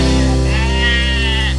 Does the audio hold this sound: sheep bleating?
yes